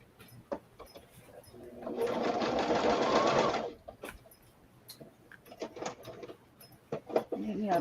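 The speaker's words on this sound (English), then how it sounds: "I'm going to sew these two together." A sewing machine joining two quilt pieces whirs in a steady burst lasting under two seconds, moderately loud, with quiet talk and small clicks before and after.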